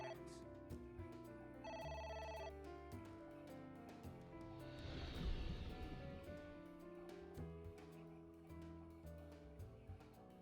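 A telephone rings in a video game, a repeating electronic bell tone in short bursts, fairly faint under game music and effects, with a louder rumbling burst midway.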